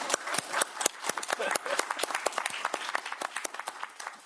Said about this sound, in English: So I will request an applause for our panelists.